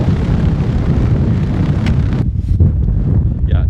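Strong wind on a winter mountain ridge at Grizzly Peak roars and buffets the microphone in a loud, steady rush, easing briefly near the end.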